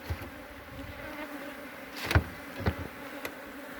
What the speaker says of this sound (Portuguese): tá aqui o nosso enxame